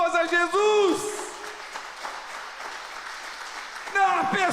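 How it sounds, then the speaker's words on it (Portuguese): A church congregation applauding during a sermon, sustained clapping in a hall with a voice speaking over it at the start and end. "Dá uma salva de palmas a Jesus."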